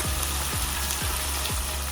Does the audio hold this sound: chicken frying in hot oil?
yes